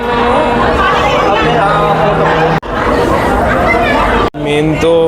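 Dense crowd chatter fills a South Indian wedding, a loud continuous babble of many voices close by, with a nearer voice talking over it and two brief cuts in the sound.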